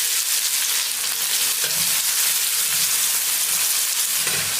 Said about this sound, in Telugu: ఇప్పుడు ఈ ఉల్లిపాయల్ని కొద్దిగా రంగు మారేంత వరకు వేపుకుందాం.